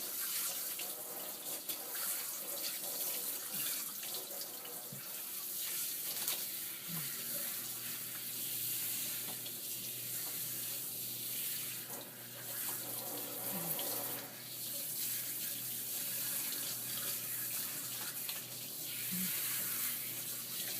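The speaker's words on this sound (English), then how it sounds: "just get the water all through it" Water from a tap runs steadily through a cat's coat during a grooming bath, a continuous close splashing hiss with faint handling noises and no break in flow.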